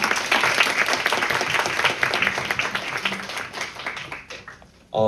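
Loud, sustained audience applause at a student Model UN closing ceremony, dense clapping from a large crowd that gradually thins out before a sudden voice at the end.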